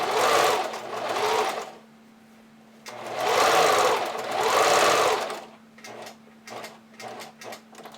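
A sewing machine stitches a lingerie seam on a Romy bra in two steady runs of about two seconds each, separated by a pause. The whirring is loud and close, followed by a few faint light taps.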